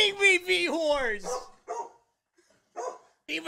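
A dog in the Escape from Tarkov game barks and yips several times in close succession, then gives a few shorter sounds with quiet gaps between them.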